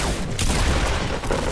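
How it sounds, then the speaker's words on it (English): A shotgun fires in a video game, producing a loud, dense blast that fills the short moment with a booming roar. "Shotgun at assault rifle range."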